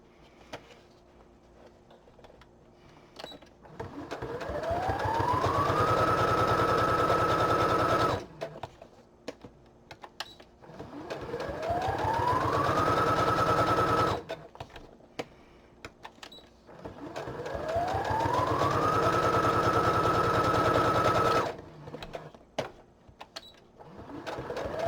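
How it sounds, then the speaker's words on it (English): A sewing machine stitches an image onto a fabric pocket in three long runs, its motor whine rising and holding steady over a rapid needle clatter, with short quiet gaps between runs. "I'm stitching this image onto the pocket."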